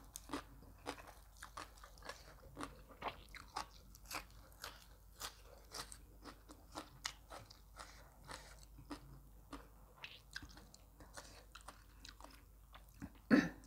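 Someone chews crispy fried pork with papaya salad close to the mic, a series of quiet, sharp crunches and bites at an irregular, unhurried rhythm, with no talking.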